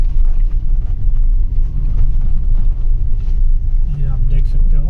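A Maruti Ciaz diesel car with freshly repaired suspension is driven over a rough road. A loud, constant low rumble of engine and tyres fills the cabin throughout, with no clear speech.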